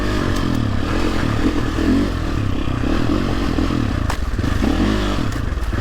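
A poorly running Sherco 450 SEF Factory enduro motorcycle engine thrums loud and close while out on a green lane, with a steady low chug, slight throttle variation and occasional clattering knocks.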